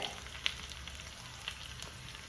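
Curry leaves and dried red chillies sizzle in hot oil as a tempering, a steady close crackle broken by a few sharp pops, with no voices.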